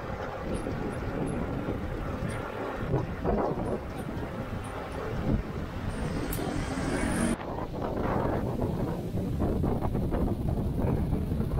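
Strong wind buffets the microphone over choppy water in a bay off the Saintes, Guadeloupe, a steady roaring rush with gusts and the hum of a boat, with people speaking faintly beneath.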